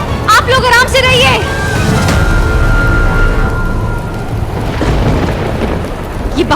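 Heavy rain pours steadily with a low rumbling wash like thunder beneath it, loud and constant throughout, while people talk over it in the foreground.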